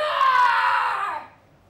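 A storyteller imitates a cat's yowl, one long, loud, wavering wail that swells, holds, then fades out quickly into quiet.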